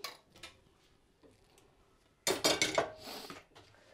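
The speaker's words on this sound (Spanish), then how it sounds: "Y ahora pongo la sartén." A frying pan is set down on a home stove while making Spanish bread migas, giving a sharp cluster of loud metallic clanks and rattles near the mic after a few quieter kitchen taps.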